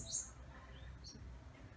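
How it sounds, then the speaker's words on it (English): Birds chirp briefly in a garden, a short high tweet near the start followed by a couple of fainter distant calls over low background hum, with no talking. "Sounds like some birds are watching us to come in and chirping away in the garden"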